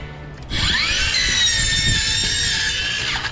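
A cordless metal saw spins up sharply after a brief pause and cuts steadily, a loud, high whining screech sustained for a few seconds before winding down at the end.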